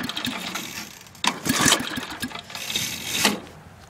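A 1963 Genoa lawn mower engine is cranked and catches, with a sharp burst of noise followed by a rough, uneven running rattle that surges again near the end, loud and close.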